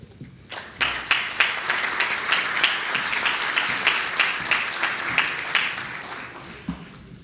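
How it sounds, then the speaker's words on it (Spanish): A conference audience gives sustained applause welcoming a speaker at an opening session, with dense, even clapping that begins sharply and then gradually thins out. "la señora Rosana Guevara, para quien pido un caluroso aplauso."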